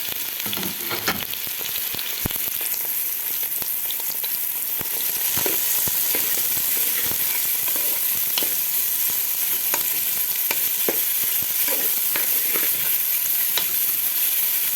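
Onions frying in ghee in a pan, giving a steady, close sizzle with scattered crackles and pops and occasional stirring scrapes, no voices.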